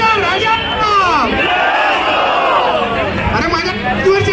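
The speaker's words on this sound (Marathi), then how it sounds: "म्हणून एक जोरदार जल्लोष होऊ द्या" A large crowd at a Govinda pathak human-pyramid event roars in sustained, loud cheering and shouting, close and dense throughout.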